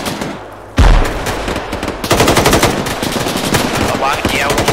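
Machine gun fire in the ArmA 3 game: a quiet lead-in, then a sharp loud burst, a brief lull, and sustained rapid rattling shots, close and forceful.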